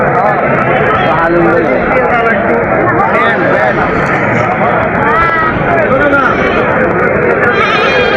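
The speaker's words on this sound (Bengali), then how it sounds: "হাতের সেরা সেরা ছাগলগুলা আমি দেখানোর চেষ্টা করলাম" Goats bleating at a busy village livestock market in Natore, with repeated calls from several animals under constant crowd chatter and people talking nearby.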